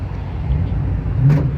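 Ferrari 812 Superfast being driven, giving a brief, steady engine drone with road noise and a short rise in pitch near the end.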